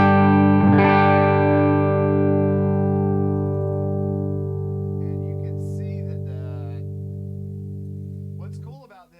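An electric guitar with both pickups on, played through a Universal Audio OX, rings a single full chord that sustains with light overdrive and slowly fades, close and alone before being muted.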